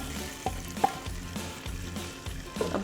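Onion and ginger tadka for dhaba-style daal chana sizzles and fries in hot oil, a continuous crackling hiss punctuated by periodic stirring scrapes and clanks of a spoon against the pan, close and fairly loud, no talking.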